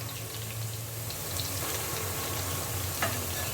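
Tomato fries and gets stirred in a pot for Nigerian vegetable soup, a low, steady sizzle with occasional faint clinks, close and continuous with no talking.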